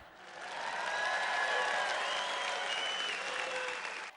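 An audience at a Joyce Meyer sermon breaks into applause, a dense clapping that swells quickly, holds steady for a few seconds, then tapers off, with faint tonal sounds underneath.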